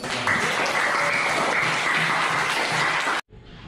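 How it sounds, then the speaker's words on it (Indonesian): Classroom applause from a group of students, steady dense clapping that fills the room for about three seconds, then cuts off abruptly into quiet room tone. "Kita beri aplaus dulu untuk kita."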